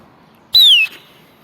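A sharp, bright whistle blown to call pigeons, a single falling tone lasting about a third of a second and heard up close against quiet surroundings.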